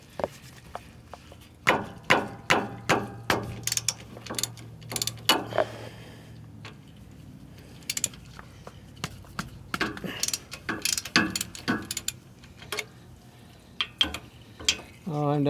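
Socket wrench ratcheting on the rear differential cover of a 2019 Ram pickup, heard as bursts of quick metallic clicks in several separate runs, fairly close, with pauses and handling noises in between.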